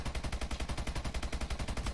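Rapid automatic gunfire from Call of Duty: Advanced Warfare, a steady, evenly paced stream of sharp shots at moderate loudness with no pauses.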